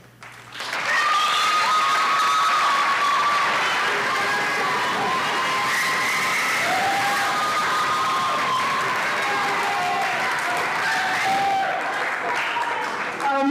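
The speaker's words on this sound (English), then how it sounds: "welcome the Premier Orchestra with a round of applause" Sustained loud applause from a large concert audience for an orchestra, continuous clapping with some cheering, lasting over ten seconds.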